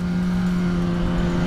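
A car engine drones steadily at close range on a winding road, holding a constant pitch over a short stretch with no voices.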